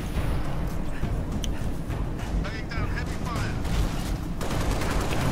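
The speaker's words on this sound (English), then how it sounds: "You are being shot like crazy." Dense, continuous gunfire from a Halo Reach combat firefight, loud and unbroken for several seconds, with sharp crackling bursts and energy-weapon zips layered over a heavy rumble; a voice talks intermittently through the shooting.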